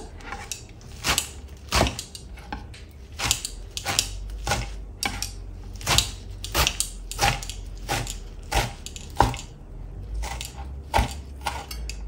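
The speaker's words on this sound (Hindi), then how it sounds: "मैं इसको अभी काटूँगी ये देखिए इस तरह मैंने मेथी को बारीक सा काट लिया है" A knife finely chops fresh fenugreek (methi) leaves on a board in a home kitchen for paratha, a steady series of crisp, sharp taps at an even rhythm with no voices.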